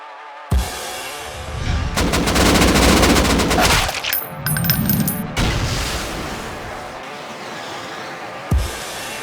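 Gunfire in the video game Rust: sustained loud bursts of automatic fire and single shots that run almost continuously for several seconds, mixed with clinking and impacts, then a final sharp shot.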